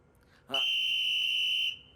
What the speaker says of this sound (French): Mais je ne veux plus entendre de sifflet à table, d'accord?